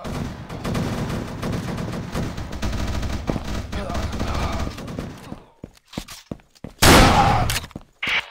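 Rapid gunfire in the shooter game Assault Cube, dense and continuous for about five seconds, then scattered single shots and one loud close burst near the end.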